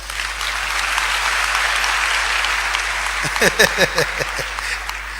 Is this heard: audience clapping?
yes